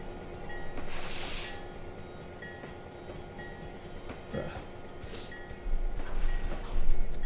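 A train in the Trainz railroad simulator rolls along the rails with a steady rumble and clatter, punctuated by bursts of hiss, moderately loud throughout with no voices.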